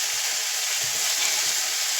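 Fish curry in masala sizzles steadily in a pan while it is gently stirred, a constant close hiss with faint soft stirring knocks underneath and no talking.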